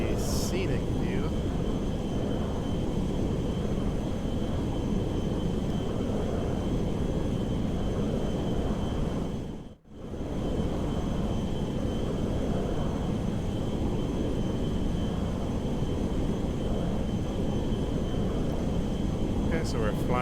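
A GTA 5 in-game aircraft flies over Manhattan with a steady, loud engine drone that holds throughout, apart from one brief dip in the middle.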